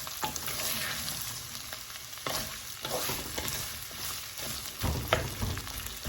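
Curry leaves fry and are stirred in a pan for a Kerala-style chicken stew, with a continuous close sizzle broken by repeated scraping stirs of a spoon.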